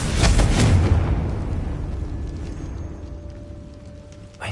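A Confringo spell exploding in Hogwarts Legacy, a loud close blast with a burst of crackle at the start that rumbles and slowly fades over several seconds, leaving a low lingering tone.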